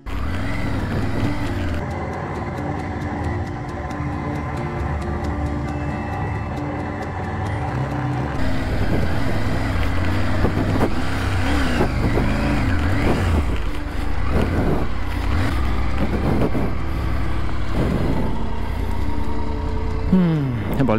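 Motorcycle ridden off-road on a remote track in Morocco, its engine droning steadily and close, with revs rising and falling over rough ground for the whole stretch and a voice talking over it at times.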